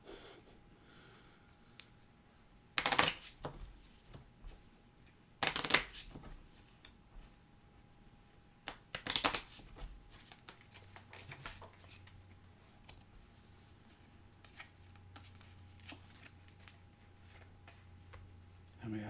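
A deck of game cards for the Moonrakers board game is shuffled in three sharp, riffling bursts spaced a few seconds apart, close and crisp, with quiet rustling and handling noises between them.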